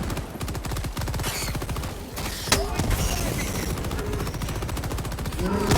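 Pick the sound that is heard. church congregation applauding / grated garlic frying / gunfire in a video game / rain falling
gunfire in a video game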